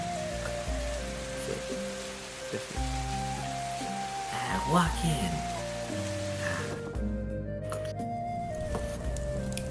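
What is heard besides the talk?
rain ambience during tabletop game session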